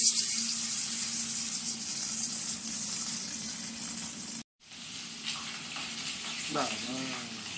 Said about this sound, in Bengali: কড়াইতে তেল দিয়ে দেওয়া হচ্ছে। পুরো রান্নাটা আজকে তৈরি হবে সর্ষের তেলে।